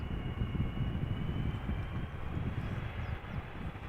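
Delta Airlines Airbus A330-300 touching down at Amsterdam Schiphol, heard as a steady distant low roar and rumble of engines and rolling wheels, continuous and fairly faint with no talk.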